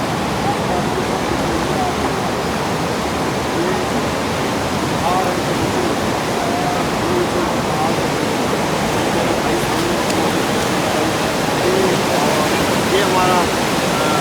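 The Swat River at Kalam rushes past its bank in a loud, unbroken roar of churning water that holds steady throughout, with no clear voices above it.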